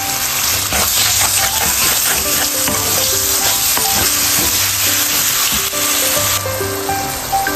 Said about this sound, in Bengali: এখন পেঁয়াজটা দিয়ে এখন ভালোভাবে নেড়ে ছেড়ে ঘুরে রেখে দেব।